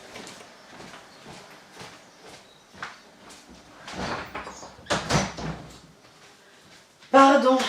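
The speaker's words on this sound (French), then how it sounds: "je vais fermer la porte" A door is shut indoors after a stretch of soft shuffling and handling noises, ending in a sudden, loud close.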